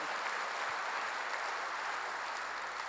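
A church congregation applauding together, a steady, dense wash of clapping that holds evenly for the whole stretch without pause.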